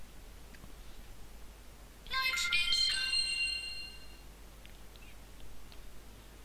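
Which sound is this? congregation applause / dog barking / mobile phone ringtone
mobile phone ringtone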